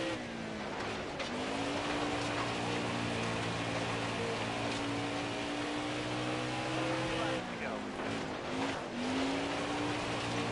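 NASCAR dirt-track race cars run in a racing video game, with several engines droning loud and steady and pitches rising and falling as the cars jostle for position, while a commentator talks over them at times.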